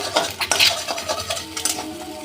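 A spoon or spatula scrapes and clatters against a metal pan as beaten egg with a little salt is stirred and scrambled into bhujiya, in a run of close, irregular scraping strokes with light metallic clinks and a faint sizzle.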